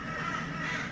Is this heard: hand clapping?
no